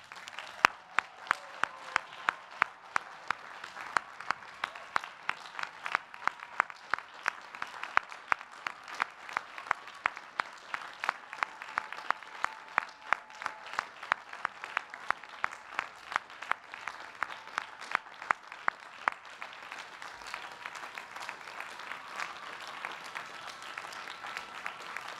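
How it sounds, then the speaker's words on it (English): An audience at the Columbia University Graduate School of Arts and Sciences 2019 PhD Class Day ceremony gives the standing candidates a long, steady round of applause, a sustained wash of clapping in a large hall. "Will the candidates please stand so that we may give them a final round of applause?"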